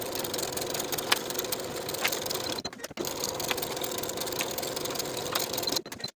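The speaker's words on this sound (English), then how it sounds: "Sew both seams with a 3/8 inch seam allowance" A sewing machine runs steadily while stitching the side seams of a tee shirt, a close, even mechanical whirr with faint rhythmic ticking, pausing briefly midway before resuming and stopping again.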